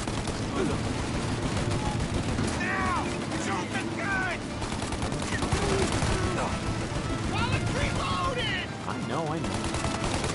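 Steady gunfire in the video game Mafia during a shootout, continuous shots and bursts throughout with shouted character voices breaking in over the shooting.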